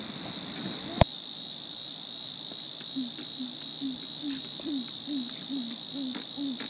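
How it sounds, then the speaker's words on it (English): An insect shrills at Starved Rock in fall, a constant high buzzing drone held steady throughout, with a single sharp click near the start and faint lower chirps in the background. "Starved rock cicada."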